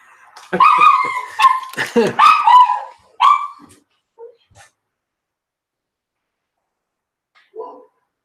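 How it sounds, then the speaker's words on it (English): A small excited dog barks and yips in quick bursts near the start, mixed with people chatting close by, then a few faint yelps trail off into quiet. "Georgie's barking doesn't scare anybody"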